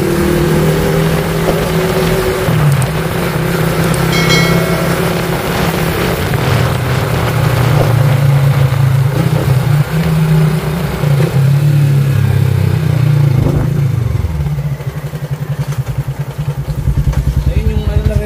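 A Yamaha Sniper 150 motorcycle engine idles and revs up close with a loud, steady rumble and rises in pitch, while people talk over it.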